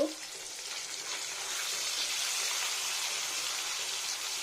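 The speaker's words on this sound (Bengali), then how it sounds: "এবার একটু কড়া কড়াক করে ভেজে নিতে হবে" Continuous loud sizzling of paneer frying crisp in a hot pan, steady and close, with no voices.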